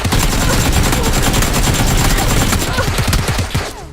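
A UMP submachine gun in PUBG fires in loud, continuous rapid bursts at close range, a dense stream of shots that tails off near the end.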